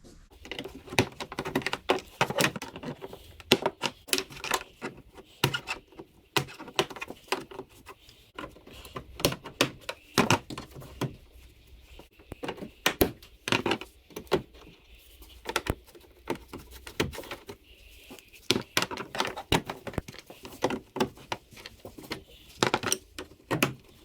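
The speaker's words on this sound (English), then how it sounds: "we're going to remove some plastic clips" Plastic clips being pried off a Ford Fusion front bumper cover, producing sharp irregular clicks and snaps in uneven bursts, close and fairly quiet, with no talking.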